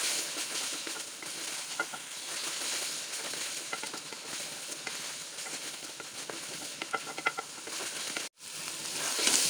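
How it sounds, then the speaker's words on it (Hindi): Spinach and potato pieces fry in oil over high heat for aloo palak, making a continuous, even sizzle with faint stirring crackles and a brief dropout near the end. "आंच को तेज़ कर लेंगे और अच्छी तरह से इसकी भुनाई करेंगे ताकि ऑयल ऊपर आ जाए"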